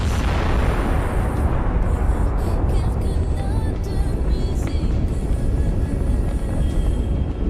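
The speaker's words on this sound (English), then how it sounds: "Once it is hit, the shells for the 125mm gun will ignite and cause a spectacular explosion." A tank's 125mm gun ammunition ignites in a loud, sustained roaring blast that rumbles continuously, with deep low-end energy and crackling bursts scattered through it.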